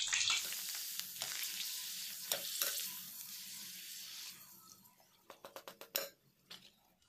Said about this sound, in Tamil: நம்ம ஃபஸ்ட்டு பழம் பொரிக்கிறதுக்காக எண்ணெய் காய வச்சுருக்கேன்.